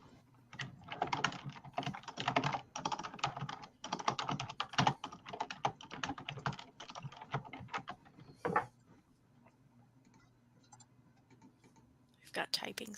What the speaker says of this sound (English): We've got typing sound effects.